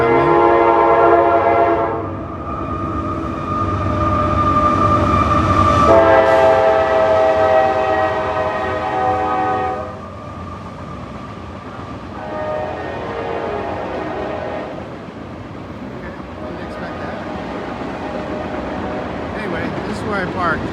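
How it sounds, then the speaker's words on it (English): A passing train sounding its horn near a greenway trailhead in Murfreesboro, Tennessee: long sustained horn blasts over a rolling rumble of railcars, loud at first and then easing off as the train moves on. "train coming."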